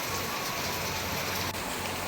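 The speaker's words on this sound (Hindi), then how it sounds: "काफ़ी तेज़ बारिश पड़ रही है।" Heavy rain pours steadily at a market stall, a dense, even hiss with a low rumble that fills the whole stretch without a break, and no voices heard.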